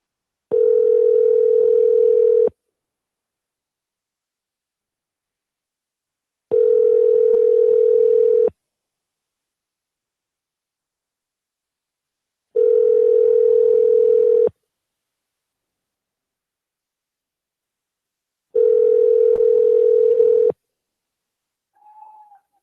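A phone call goes unanswered, giving four long, steady ringback tones at regular intervals with silent gaps between them, followed by a brief faint click at the end; no one speaks.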